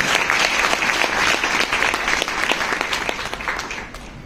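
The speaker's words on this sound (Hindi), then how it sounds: "जोर से ताली बजाइए ना अपने परमेश्वर।" A church congregation at a Sunday service in Pipalkua, Gujarat claps loudly and steadily, dense sustained applause filling the room for the whole stretch, tapering slightly at the end.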